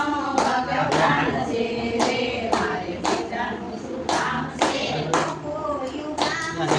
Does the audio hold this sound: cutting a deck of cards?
no